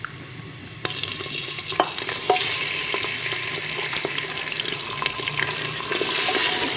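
Mutton pieces frying with browned onions in a cooking pot for a taro and meat curry, giving a steady close sizzle with scattered clinks and scrapes of a spoon.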